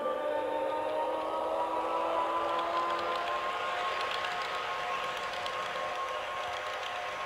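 Accelerating sound from a model ICE BR 407 Velaro D train: a quiet electric whine climbing steadily in pitch over several seconds, with rising hiss layered over the steady drone.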